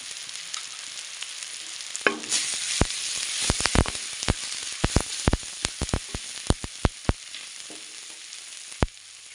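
Tomato with turmeric and spices frying in a pan for an Odia bottle gourd raita, a steady close sizzle with sharp crackles and pops scattered throughout, no talking.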